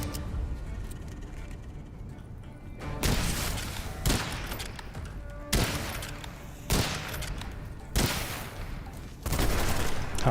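Gunfire in the video game Witchfire comes as a series of loud, heavy bursts roughly every second or so, each a sharp crack with a ringing tail, over a steady rumbling game background.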